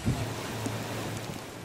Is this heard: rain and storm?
yes